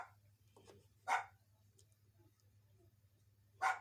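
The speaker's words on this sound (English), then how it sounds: "My dog always has to tell me when there's cars out on the street." A dog barks twice at cars passing on the street outside a home kitchen, each bark short and sharp, a few seconds apart, over a quiet low hum.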